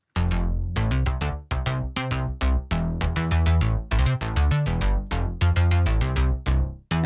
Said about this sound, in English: So this is what just the synth basses sound like.